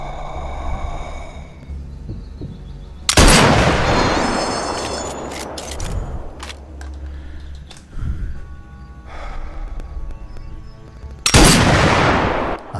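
Two sniper rifle shots from the VR game Sniper Elite VR crack loudly several seconds apart, each trailing off in a long echoing decay over quieter background sounds and faint tones.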